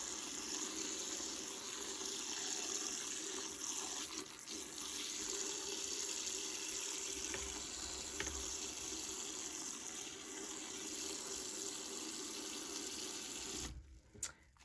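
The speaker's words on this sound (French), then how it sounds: "Donc, je vais rajouter un petit peu d'eau." Tap water runs steadily into a container as lukewarm water is added for soaking fibre for spinning, a continuous close splashing rush that stops abruptly near the end.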